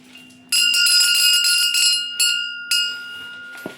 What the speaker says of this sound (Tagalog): meron din tayo ditong bell na napakaganda